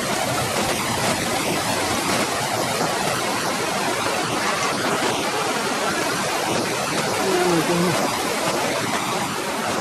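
A stream pours steadily into open water in Burano, Italy, making a continuous, loud broadband rush with no pauses, heard up close and on its own.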